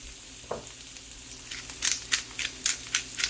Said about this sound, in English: sauteing off the mushrooms. A little bit of oil, button mushrooms, salt,